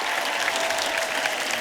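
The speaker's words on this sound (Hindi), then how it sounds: "एक बार हमारे मेहमानों के लिए जोरदार तालियां।" Studio audience applause for the guests of a Hindi comedy talk show, a steady, fairly soft wash of clapping with no talk over it.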